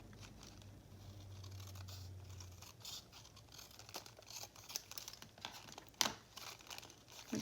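Scissors snip and rustle through paper from a junk mail envelope, faint and close, with crinkling handling between a few distinct cuts.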